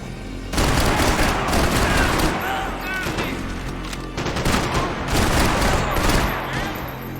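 Loud, dense gunfire from Max Payne 3 in a Brazilian favela firefight, with rapid automatic bursts and overlapping shots that continue almost without a break, while voices shout over the shooting.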